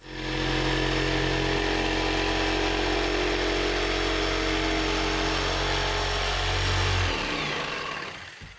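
A jigsaw cuts through wood in a woodworking shop. The motor whines loudly and steadily for about seven seconds, then winds down and stops.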